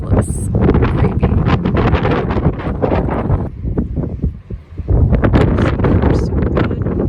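Strong wind buffets a sailboat lying at anchor, roaring loud and gusty across the microphone with rustling surges, easing briefly midway before building again.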